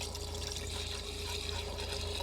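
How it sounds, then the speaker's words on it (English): Water pouring into the radiator of a Cummins-powered truck left sitting for years in a cow paddock, a continuous close splashing trickle with a steady low engine-bay hum underneath. "yeah, I'll put some water in now."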